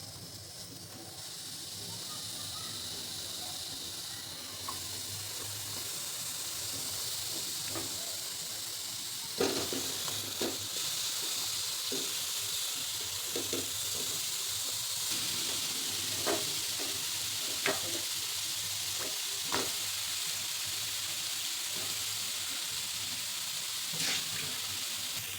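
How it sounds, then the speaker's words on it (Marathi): Sweet potato slices fry in a hot kadhai for a fasting meal, giving a steady, fairly quiet hiss broken by scattered small crackles and pops throughout. "तर आता कढई छान तापलेली आहे. आपल्याला काप टाकून घ्यायचे."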